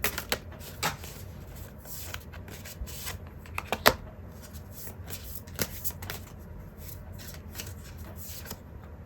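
Tarot cards are shuffled by hand in repeated bursts, crisp riffling and soft flicks close to the listener with short pauses between, no voices.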